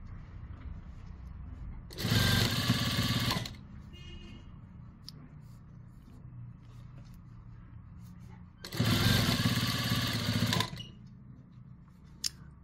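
A sewing machine runs in two bursts of rapid stitching at a longer-than-usual stitch length, each a second or two long, with quieter background between them, while shortening a sweatshirt's puff sleeves.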